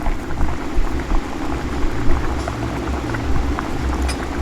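A boiled and ground onion and cashew gravy hits a hot oiled pan with ginger garlic paste for kaju masala, giving a loud, dense, continuous sizzle and bubbling close up.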